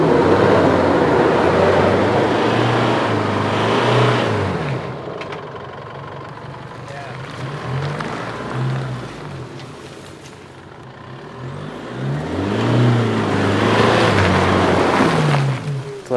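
A muddy 4WD car revs hard on a rainforest jungle track, its engine surging loud and close in repeated bursts, easing to a lower rumble in the middle before climbing again as it tries to pull free.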